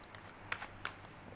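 A narrow tarot deck on good cardstock being shuffled: two brief papery riffling bursts over quiet room noise, close and soft, with no talk.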